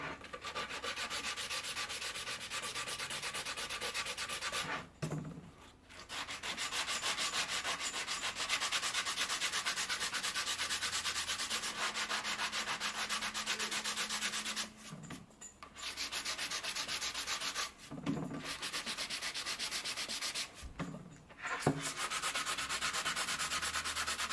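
Sandpaper of 150 grit rasps steadily across a wooden skateboard deck in long, continuous strokes. The loud, close scratching runs alone and stops briefly four times.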